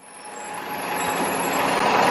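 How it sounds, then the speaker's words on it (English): A bus rolls along a city street as heard from a nearby car, a broad rushing engine and road roar that swells steadily louder over a couple of seconds, no talk. "Cruise past this bus."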